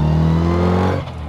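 A car engine with a lightened flywheel, wired to a theremin, revs loudly and close up, holding a strong drone before the pitch and volume suddenly drop away.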